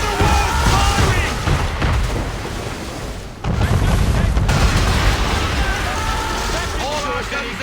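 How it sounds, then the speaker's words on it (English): A man-of-war warship fires its cannons in the video game Assassin's Creed 3, heavy booms and blasts rolling across a noisy naval battle, with shouted voices over the barrage. "Man of war firing!"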